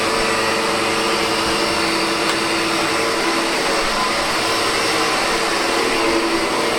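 A SEBO Automatic X7 Boost ePower upright vacuum cleaner runs with its brushes spinning, a loud, steady motor whine and airy roar held close and unbroken, with no talking.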